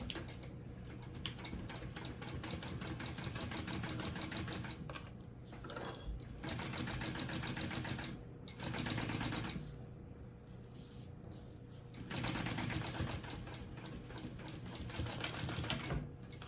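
A sewing machine bastes a zipper panel onto a slip pocket piece for a crossbody bag, stitching in a fast, even rattle across several bursts with short pauses between runs.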